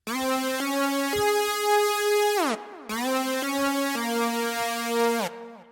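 A bright, sustained synth lead plays long held notes with a soft, washy reverb tail, dropping out briefly before a second phrase returns.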